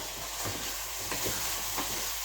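Onions frying in a pan for corned beef hash, a soft continuous sizzle with faint scraping as they are stirred, low and even throughout.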